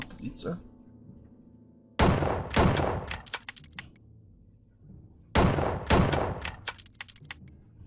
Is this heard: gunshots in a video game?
yes